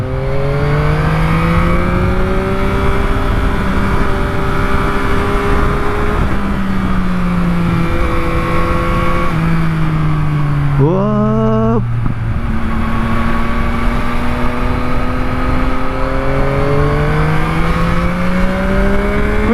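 Yamaha MT-09 motorcycle ridden on an open road, engine droning loud and close with steady wind rush, pitch rising through the gears then dropping on a shift before climbing again.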